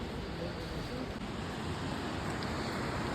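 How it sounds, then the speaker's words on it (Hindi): Fast-flowing Ganges river water rushing beside a mountain trekking track between Gobind Ghat and Ghagariya, a steady, loud, continuous broadband roar with no pauses. "पानी का फ्लो देखो और कितना साउंड है, मतलब इतनी तेज़ी से पानी जा रहा है"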